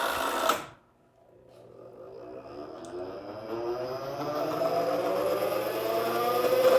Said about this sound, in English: the drivetrain doesn't sound great, but it's spinning up